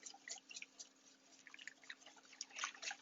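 Hot liquid being whisked into egg yolks in a bowl on the stovetop for crema catalana, faint close-up wet clicking and dripping sounds in a loose, irregular rhythm over a low steady hum.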